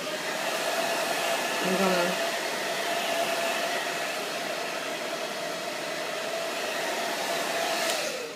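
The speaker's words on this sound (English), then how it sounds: "And a little warm air from the blow dryer." A hair dryer blows steadily, a continuous broadband whoosh of air that holds at an even level throughout.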